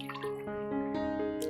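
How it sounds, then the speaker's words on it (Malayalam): Water pours into a glass with a clear ringing tone that climbs in pitch as the glass fills, close and fairly quiet. "ലാസ്റ്റ് ഗ്ലാസ്സിലേക്ക് നമ്മൾ വെള്ളം ഒഴിക്കുന്നു."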